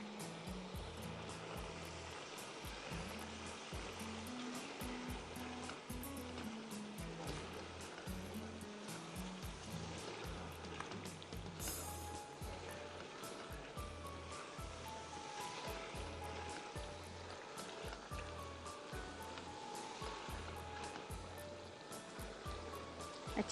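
Stew masala sizzling and frying in a pan, a steady close hiss with a repeating rhythmic stirring or scraping pulse underneath, with no talking.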